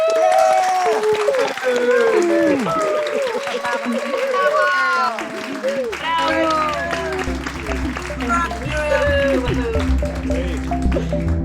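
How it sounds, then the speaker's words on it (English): Many unmuted participants on a video call cheer and clap together for a performer, overlapping voices whooping and clapping in a loud, crowded burst, followed by a steady hum of continued applause and chatter. "just have a really lovely warm applause for Muriel"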